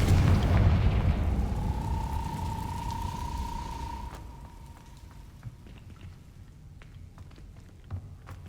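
A Confringo blasting spell explodes in Hogwarts Legacy with a loud, deep rumbling boom. It fades over several seconds under a ringing tone into quieter crackling debris.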